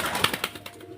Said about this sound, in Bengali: আজকে বেশ কিছু সাদা কালো ফ্রেশ মাদ্রাজি কবুতর দেখাবো।